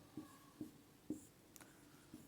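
Chalk or marker strokes on a board during a physics lesson on a current-carrying circular coil: four or five short, separate scratchy taps spaced about half a second apart, faint and close, with no talking.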